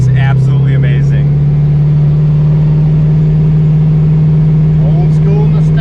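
A custom 1987 four-eye Foxbody car's engine runs loud and close with a deep, steady throb, holding a strong low drone throughout while faint voices come and go at the start and end.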